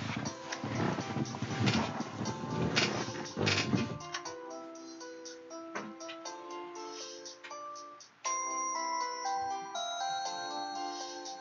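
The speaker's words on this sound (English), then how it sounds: "Phone woke me." Electronic ringtone-style chime from the Custom Robo video game, a melodic beeping tone that follows a noisy opening burst and keeps sounding in short repeating phrases.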